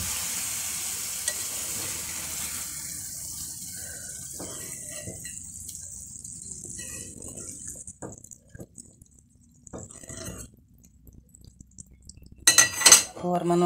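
Pesarattu curry stirred in a pan on a stove: soft sizzling and scraping early on fade to quieter, scattered clinks and spoon taps, then a louder burst of metallic clatter near the end.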